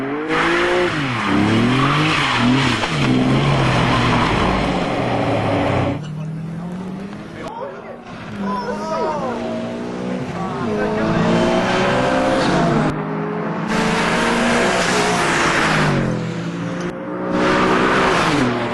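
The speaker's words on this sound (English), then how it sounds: "So I can do burnouts." A rear-wheel drive car does burnouts, loud squealing tires and revving engine in several long bursts with brief breaks, while voices talk over parts of it.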